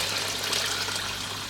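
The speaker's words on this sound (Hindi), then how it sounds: "पानी ऐड करूँगी" Water pours steadily into rice for chicken pulao, a continuous, fairly loud gushing splash with no break and no speech.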